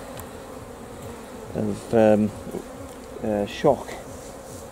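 A very strong honey bee colony buzzes steadily at the hive during night honey harvesting, with brief bursts of speech rising over the constant drone.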